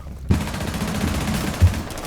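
Automatic gunfire in a tactical shooter game during a wall breach, dense and continuous bursts with a couple of louder close shots standing out.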